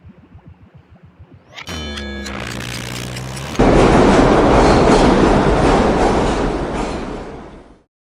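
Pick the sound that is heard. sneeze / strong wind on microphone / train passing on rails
train passing on rails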